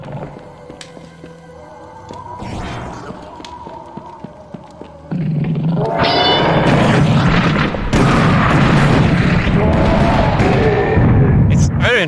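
Rockets exploding in the Serious Sam VR: The First Encounter video game, deep booming blasts and roaring game noise that swell loud midway and stay dense, with no talk.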